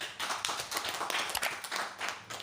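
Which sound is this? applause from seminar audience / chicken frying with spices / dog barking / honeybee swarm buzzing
applause from seminar audience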